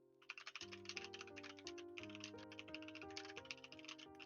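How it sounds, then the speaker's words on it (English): Rapid typing on a computer keyboard clatters steadily throughout, close and busy, layered over a sustained droning background music with stepping low notes. "Sorry about my typing."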